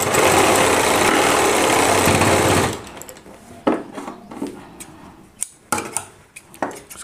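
A sewing machine stitching a lehenga runs in a loud, steady mechanical whirr for nearly three seconds, then stops, leaving scattered clicks and light handling knocks of fabric and tools.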